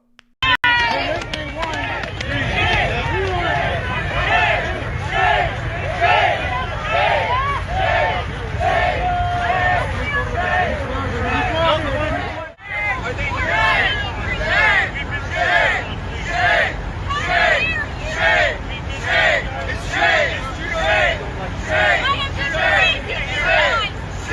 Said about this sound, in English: The protesters booing the police.